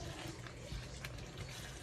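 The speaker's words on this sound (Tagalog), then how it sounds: "Lagyan na natin siya ng tubig." Water pours steadily into a cooking pot of chicken in a home kitchen, a faint, continuous splashing trickle lasting a couple of seconds with no voices.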